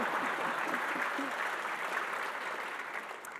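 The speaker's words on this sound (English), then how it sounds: "That's a good thing to clap for." A crowd at a political speaker event with Congresswoman Liz Cheney claps steadily for several seconds, the dense applause tapering slightly toward the end.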